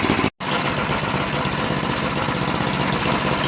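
A Craftsman 928 snow blower engine idles loud and close with a steady, rapid mechanical chatter and hum. The sound drops out for a moment near the start and then runs evenly to the end.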